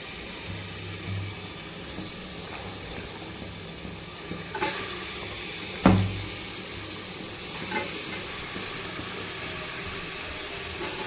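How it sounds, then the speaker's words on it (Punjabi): Eggplant drops into roasted spice masala in a pan and sizzles with a steady, moderate hiss. A sharp clatter comes near the middle, and no one speaks. "ਜਸਟ ਮਸਾਲਾ ਭੁੰਨਿਆ ਗਿਆ ਹੁਣ ਆਪਾਂ ਪਾਈਏ ਵਿੱਚ ਬੈਂਗਣ"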